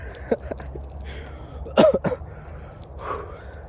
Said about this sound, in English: I woke up with a cough.